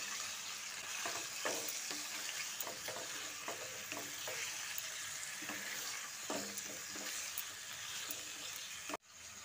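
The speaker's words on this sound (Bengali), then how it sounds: "এবার গরম তেলে চিকেনটা দিয়ে একটু হালকা করে ভেজে নিচ্ছি।" Chicken pieces fry lightly in hot oil in a home kitchen, giving a steady, soft sizzle and crackle with small spatters throughout and no talking.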